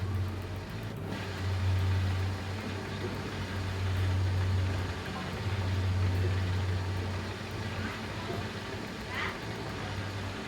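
A dump truck engine in the Gold Rush video game drones and revs at a low, steady pitch, swelling and easing in long waves over several seconds, running continuously beneath the sound.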